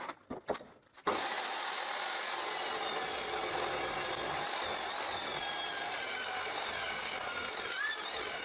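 A saw cuts reclaimed wood from an old door held in a jig. A few short knocks come first, then a loud, steady, continuous power-saw cutting noise runs to the end.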